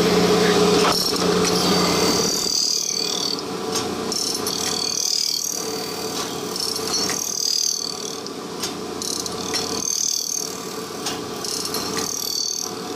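An Abrasive Machine Tool Co. Model 3B surface grinder runs with its table reciprocating at slow speed, giving a continuous mechanical whine and hum that swells and eases in a slow repeating cycle as the table travels back and forth.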